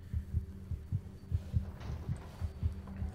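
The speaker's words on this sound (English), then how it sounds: "The heartbeat is not making this any less terrifying." A heartbeat sound effect from the horror video game Among The Sleep throbs in a steady, deep double-pulse rhythm, about eight beats, alone and moderately loud.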